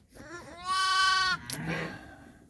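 A lamb penned with its mother gives one loud, drawn-out bleat at close range, followed by softer rustling and shuffling in the pen.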